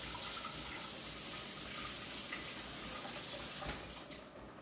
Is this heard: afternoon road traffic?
no